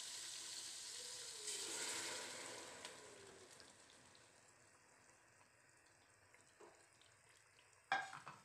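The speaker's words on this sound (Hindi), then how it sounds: "अब मैं इस दाल को अपने मसाले के अंदर ऐड करूँ" Cooked lentils (dal mash) are added to frying spices in a pan with a brief burst of sizzling, then stirred quietly with faint scraping and a clatter near the end.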